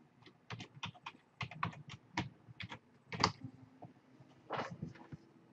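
Someone types a password on a computer keyboard, a quiet, close series of irregular key clicks coming in short bursts with brief pauses.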